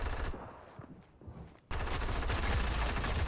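Gunfire in the Fortnite video game, with a brief burst, a quieter lull, then a sudden sustained, loud, dense stretch of rapid automatic fire.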